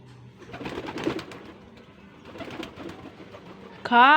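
Pet pigeons feeding on a staircase, soft intermittent cooing and shuffling close by, with a voice speaking near the end.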